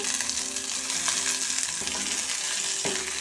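Sliced onion, dried red chilli and garlic frying in oil with tempering spices give a steady close sizzle, with a few soft clinks of stirring and a bright scrape near the end.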